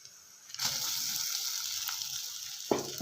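Chana dal, split chickpeas, frying in a pan sets off a loud, steady sizzle that starts abruptly and holds evenly, with a brief stirring scrape near the end and no talk.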